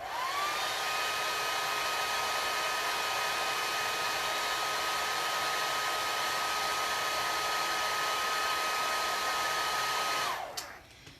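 A hair dryer blows steadily on a pine cone being dried for a craft piece, a loud continuous whirring hum that runs for about ten seconds before switching off abruptly near the end.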